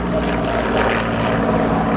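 An Ilyushin IL-2 Sturmovik armoured ground-attack plane with a 1,720-horsepower 12-cylinder Mikulin engine drones in flight, a loud continuous propeller roar with a steady low hum.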